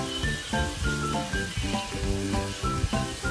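Vegetables sizzle and fry in a pan while making creamy pasta, a steady close crackle running throughout with stirring clatter mixed in and no talking.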